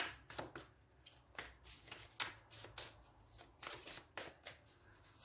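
A deck of tarot cards is shuffled repeatedly by hand, giving a close, crisp run of riffling and slapping bursts in an uneven rhythm, with no voices.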